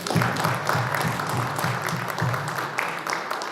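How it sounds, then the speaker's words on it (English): An audience at a county public forum about Memorial Field applauds steadily, a thick, even patter of many hands clapping at once with a low room hum beneath. "Everybody, let's give our county executive a big round of applause."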